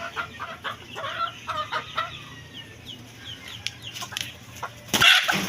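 Chickens cluck in short bursts nearby with scattered bird calls, ending in one louder, sharper squawk.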